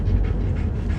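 A fourteen-year-old dog named Puppy pants steadily and close up, quick rhythmic breaths running throughout with no talk.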